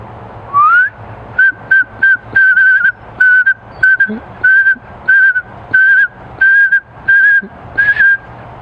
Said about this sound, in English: I can whistle towards the bird that wants to fly away,